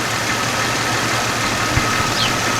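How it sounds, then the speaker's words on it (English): A car A/C compressor clutch spinning free on a running engine, a steady close mechanical whir and rumble with no breaks, one faint tick near the end. "I wanted to see if the clutch spun free from the compressor,"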